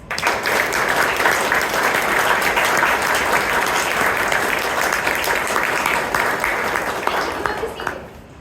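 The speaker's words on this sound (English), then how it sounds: "Give a huge round of applause to all speakers who came and gave the icebreakers" A Toastmasters club audience in Bangalore, standing, gives a big, dense round of applause for the icebreaker speakers, the clapping loud and unbroken for about eight seconds before tapering off at the end.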